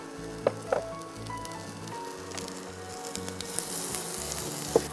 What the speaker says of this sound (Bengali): আমি পেঁয়াজ কুচিটা দিয়ে দিচ্ছি।